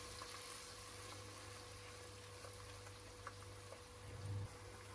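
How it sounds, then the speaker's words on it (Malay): Chopped garlic sautéing in melted butter, a faint steady sizzle with soft bubbling and a low background hum, quiet and continuous throughout. "Butter dah cukup cair, kita masukkan bawang putih yang kita cincang tadi."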